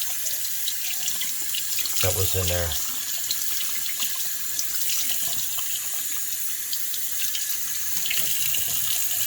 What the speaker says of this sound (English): if you run your water through that, you can rinse out all the trapped debris